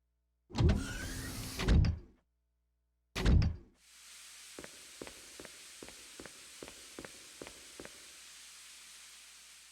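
A door opening in the Resident Evil HD Remaster video game: two loud mechanical bursts in quick succession, followed by a steady hum with a series of evenly spaced soft clicks or footfalls.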